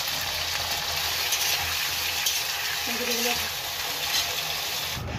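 Sliced ivy gourd frying in oil with panch phoron, a dense, even hiss of sizzling oil heard close throughout, with a brief faint tone partway through.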